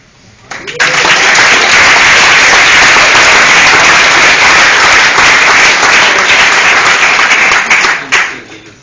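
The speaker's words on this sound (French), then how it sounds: "évidemment, on va applaudir tous les projets" Loud, close applause from an audience cheering presented projects at a feedback session, swelling abruptly after a second, holding a dense roar of clapping for about seven seconds, then tapering off sharply near the end.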